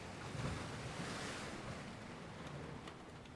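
Ocean waves wash steadily onto the shore along a lighthouse coast, a continuous broad roar of surf with gusty wind noise, close and fairly loud, with no voices.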